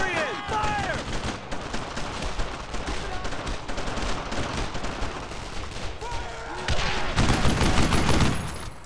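Sustained gunfire fills a Brothers in Arms: Road to Hill 30 battle, dense rapid shots and bursts running throughout and getting heavier toward the end, with voices in the mix.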